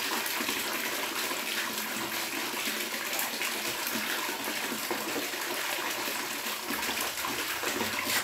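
A small electric water pump runs, pushing water out in a continuous rushing, splashing stream that holds steady and fairly faint from start to finish.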